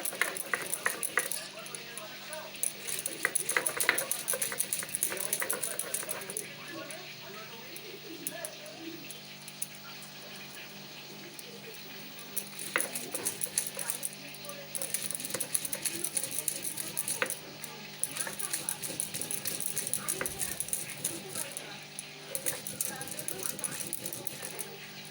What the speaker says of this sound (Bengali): একসঙ্গে সবগুলো আমি বেটে নিচ্ছি।